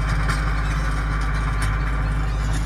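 A steady, low engine idles close by, a constant rumble with a mechanical chug and no breaks, loud throughout.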